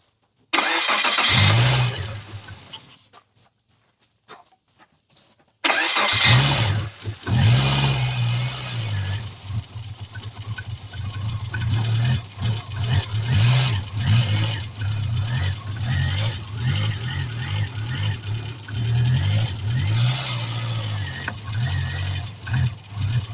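A small Geo Metro car engine cranks, stalls into silence, then catches and settles into a steady, low idle that gently rises and falls.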